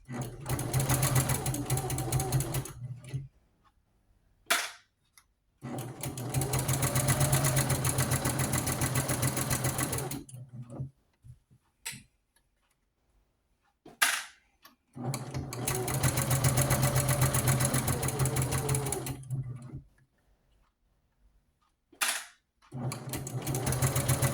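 Sewing machine stitching a doll quilt from scrap fabric, running in long steady whirring bursts of several seconds each, separated by short pauses and sharp clicks.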